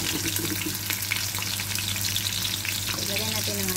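Garlic sizzling steadily in a hot pan, loud and close, with a light stir near the end and no talking.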